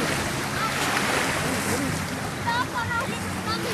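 Continuous rushing surf and wind noise from the sea at a shoreline in Cavite, Philippines, with faint voices mixed into the steady wash.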